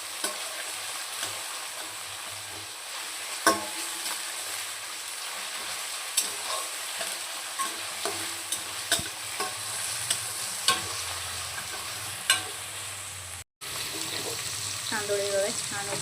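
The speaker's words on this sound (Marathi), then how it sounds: "ऑनियन छान आपल्याला गोल्डन फ्राय करून घ्यायचं." Finely chopped onions fry golden in hot oil for chicken tikka dum biryani, giving a steady close sizzle broken by sharp clinks of a spoon stirring against the pan, with no talk.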